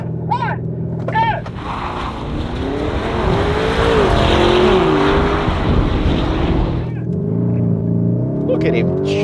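A Range Rover Sport SV and a Lamborghini Urus Performante launch side by side in a drag race, engines surging into a loud rising roar with tire noise, then easing off as voices talk over it.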